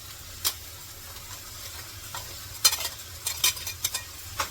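A spoon stirs a dry vegetable dish in a pan over a faint sizzle, giving a few scraping clicks against the metal that cluster toward the end. It is close and fairly quiet, with no speech.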